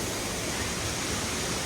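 Curug Putri Palutungan waterfall at the foot of Mount Ciremai, a steady, dense roar of falling water that stays loud and unbroken throughout, with no voices.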